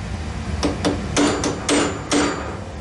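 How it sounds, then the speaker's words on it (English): A hammer strikes a center punch five times, sharp close metallic taps at an uneven rhythm, to spread open a rear right wheel bearing on a Yamaha Kodiak or Grizzly ATV. "You gotta take a center punch and just go in there and just spread it open."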